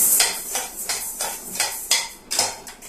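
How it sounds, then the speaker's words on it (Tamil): Flour dry-roasting in a pan for puttu, heard as repeated rhythmic scraping and stirring strokes of a utensil against the metal pan, close and fairly loud, about five strokes in three seconds. "நல்லா வாசனை வர வரைக்கும் நல்ல ப்ரௌன் கலர்ல வறுத்துக்கலாம்"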